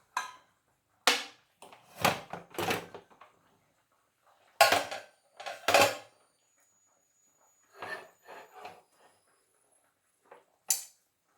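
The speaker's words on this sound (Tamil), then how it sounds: "இப்போது குக்கரை திறந்து பார்த்துக்கலாம்." A pressure cooker is opened and pots and utensils are handled while making Thiruvadhirai kali in a home kitchen: scattered metallic clanks and knocks, close and sharp, separated by quiet pauses.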